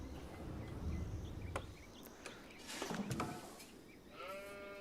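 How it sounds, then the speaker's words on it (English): Sheep bleat in the Age of Empires IV strategy game, a short wavering call rising near the end over a busy layer of in-game ambience, with no talk. "That should give us some sheep for a while."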